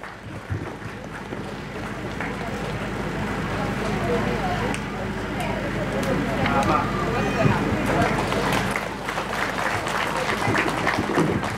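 Sustained audience applause at a cultural organisation's 43rd foundation day event in East Kameng, a dense, steady wash of clapping throughout with crowd noise and voices mixed in.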